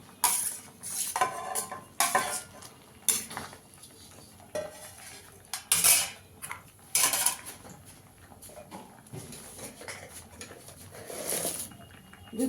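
Eggplant goes into a pan for shukto and is stirred, heard as bursts of metal spoon scraping and clanking against the pan between quieter pauses, with a faint sizzle and a pigeon cooing in the background.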